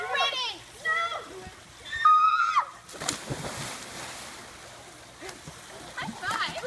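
A splash as someone is thrown into a river, a burst of water impact and sloshing that follows children's excited shouting, with kids' voices returning faintly over the settling water.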